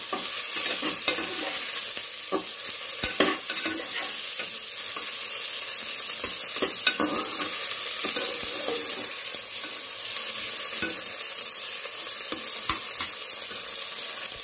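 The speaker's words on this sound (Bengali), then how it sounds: "এই সময় আমি একটা গোটা টমেটো অ্যাড করে দেবো।" A whole tomato frying in hot oil for a railway-style mutton curry, an even crackling sizzle with occasional spatters and stirring scrapes throughout, no voices.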